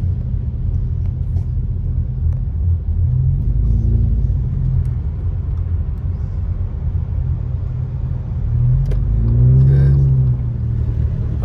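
A car engine idles with a low, steady rumble on a snowy day in Big Bear Lake, California. The drone continues close and unbroken throughout, with a brief swell near the end; no clear cut-off is audible.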